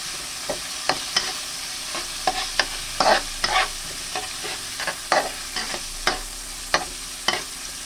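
Beef going into a hot pan for a chicken and ampalaya curry, with a steady sizzle of frying under repeated scraping stirs and clinks of a utensil against the pan, no voices.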